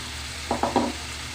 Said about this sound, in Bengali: এখন আমি এখানে কেটে রাখা আলু কুচিটা দিয়ে দিচ্ছি